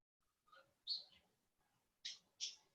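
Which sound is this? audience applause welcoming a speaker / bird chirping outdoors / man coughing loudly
bird chirping outdoors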